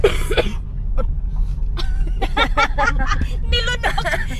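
A cough rings out amid busy background chatter and traffic noise, with voices talking over a steady rumble.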